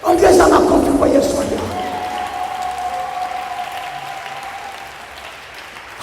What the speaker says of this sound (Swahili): Ongeza makofi kwa Yesu.